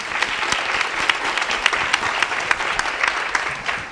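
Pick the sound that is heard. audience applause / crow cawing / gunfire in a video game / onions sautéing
audience applause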